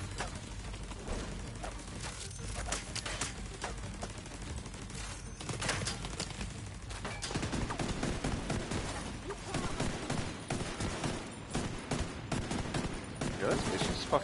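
Turret gunfire in the shooter game The Division 2: dense, sustained bursts of automatic fire that rattle on throughout, loud and close, joined by scattered in-game voices.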